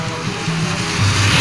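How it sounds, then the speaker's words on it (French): A motorcycle passes close by, its droning engine pitch shifting as the sound swells louder toward the end of a short burst, with no speech. "une moto"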